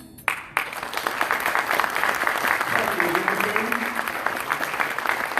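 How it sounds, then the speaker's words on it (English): An audience at a community family night gala breaks into loud, sustained applause, many hands clapping together in a dense wash that continues throughout. "I want to ask for a round of applause"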